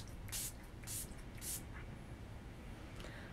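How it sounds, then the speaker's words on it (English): Three quick hissing sprays of makeup primer, evenly spaced, close and fairly loud over a quiet room background, with a faint fourth puff near the end. "So I'm going to start off and give myself a couple squirts."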